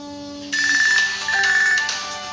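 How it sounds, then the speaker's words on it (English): A smartphone's electronic ringtone rings from an incoming call placed to it, a clear repeating melodic pattern, close and loud, with no talking. "so that's the noise of the phone."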